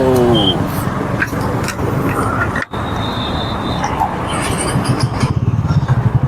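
A Bajaj Pulsar NS400Z motorcycle engine hums steadily while riding, with road and wind noise rushing past and brief dropouts, no clear speech.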